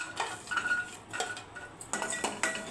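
Several light metallic clinks and knocks as garlic cloves are dropped into a dry pan to warm, with no oil, in a home kitchen; a few separate bright taps in quick succession, close and fairly quiet, with no talking.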